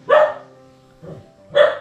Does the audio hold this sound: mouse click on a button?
no